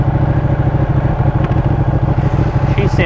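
A 2018 Ducati Panigale 959 Corse with stock exhaust idles close by with a loud, steady, lumpy rumble and rapid pulsing beat.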